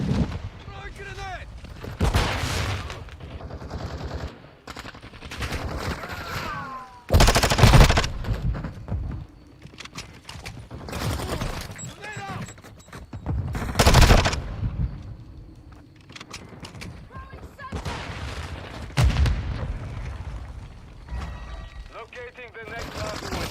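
Call of Duty Modern Warfare II multiplayer gunfire: loud, rapid automatic bursts and heavy blasts crowd together and keep shifting from close to distant. Game voices call out over the shooting.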